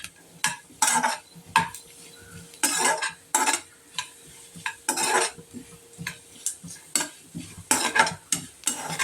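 Cashews and grated coconut fry in a pan while a spoon stirs them, with repeated scraping strokes in an uneven rhythm over a soft sizzle underneath, close and clear.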